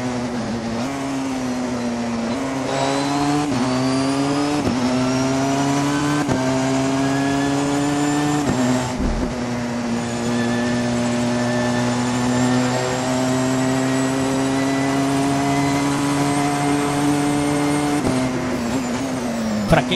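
Porsche 919 Hybrid 2015 race car in the Assetto Corsa game: a high, tonal engine whine climbs repeatedly through the gears with brief dips at each shift, then holds a long sustained pitch, loud and continuous with no voices.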